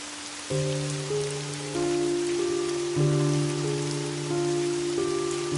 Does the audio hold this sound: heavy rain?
yes